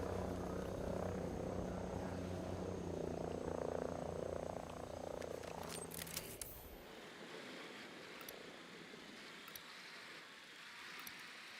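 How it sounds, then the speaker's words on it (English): A helicopter patrol in the Ghost Recon Breakpoint video game drones low and distant for several seconds, then fades out, leaving a chorus of frogs croaking in the background. "Oh, helicopter patrol."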